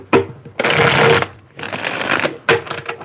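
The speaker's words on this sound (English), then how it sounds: "Let me get one more good shuffle" Three bursts of crisp riffling tarot card shuffles, loud and close, each a dense rapid flutter lasting under a second, separated by brief pauses.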